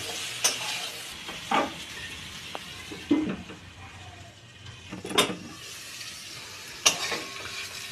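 A steady sizzle of potatoes frying in a pan, broken every second or two by scraping stirs of a spatula against the metal.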